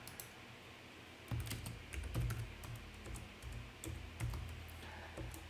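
Someone types a command on a computer keyboard, with a quick close run of key clicks after a brief quiet start.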